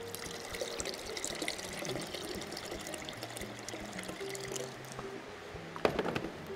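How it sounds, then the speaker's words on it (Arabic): Hot water is poured over bulgur, lentils and fava beans in a kitchen, a soft continuous trickle and splash running for several seconds with light clatter, closing with a sharper knock. "نزيدهم شويه ماء سخون"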